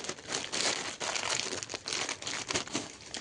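Clothes being packed with plastic packaging crinkling and rustling continuously and up close, in dense bursts throughout with no talk.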